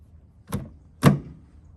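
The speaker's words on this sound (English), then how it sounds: "I have to hold it in position and then pop it." A Toyota FJ Cruiser door handle being pressed into place, two sharp plastic clicks about half a second apart, the second louder with a brief thunk, close up and alone.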